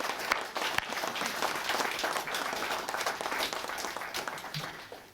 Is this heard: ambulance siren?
no